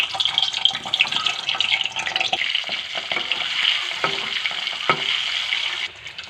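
Eggs frying in a pan for an egg and small potato curry, a steady crackling sizzle with scraping stirring strokes and occasional clinks, close and continuous with no talk.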